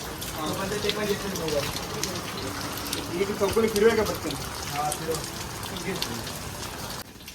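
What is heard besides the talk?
rain falling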